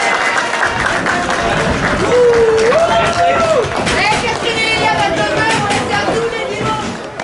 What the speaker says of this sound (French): Alors les joueurs applaudis à la sortie.